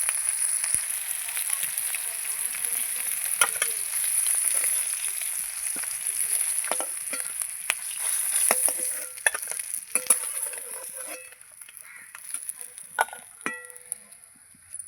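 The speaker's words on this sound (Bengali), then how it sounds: "আমার আর দুটো মাছ আছে এগুলো ভেজে নিলেই হয়ে যাবে এটিগুলো ভেজে নেবো" Pieces of rohu fish fry in hot oil with a bright, steady hiss and scattered pops and crackles, with occasional clinks of a utensil against the pan.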